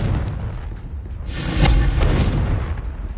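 A Confringo spell in Hogwarts Legacy bursts with a deep, rumbling boom that swells midway and fades out over a few seconds.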